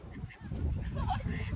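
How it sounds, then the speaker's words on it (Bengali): A duck quacks several times at a duck-catching game held for Eid. The honking calls are fairly faint, mixed with crowd noise, and voices can be heard nearby. "হাঁস কিন্তু সাউন্ড করতেছে।"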